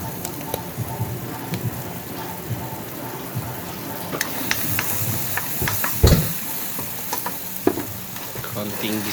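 Chopped tomatoes sautéing and being stirred in a pan, with a steady close sizzle, intermittent scraping stirs and a couple of louder clanks from the utensil.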